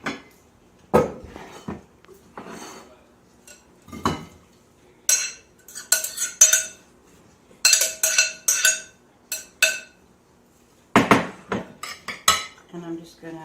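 A serving dish for watermelon salad with mint and feta is handled, with a series of sharp clinks and clatters of dishes and utensils in irregular bursts, close by, with brief pauses between and little talk.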